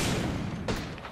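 A short, loud burst of incoming gunfire in the shooter Apex Legends, a dense close rattle with one sharper crack near the end.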